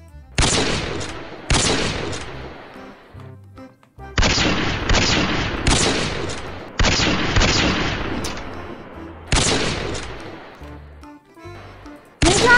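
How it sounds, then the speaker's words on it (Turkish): Repeated rocket blasts fired at a player in a Roblox escape game, about six loud booming explosions at uneven intervals, each decaying into a rumbling tail. "Bana sürekli roket atıyor kanka."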